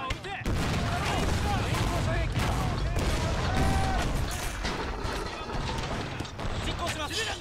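Gunfire in a Total War: Shogun 2 mod battle during an 1868 beach invasion: dense, loud volleys of shots and cracking blasts pile up continuously, with some talk mixed in.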